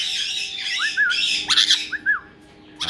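Shrill parrot squawks ring out close by, several sharp bursts in quick succession over a quiet background hum.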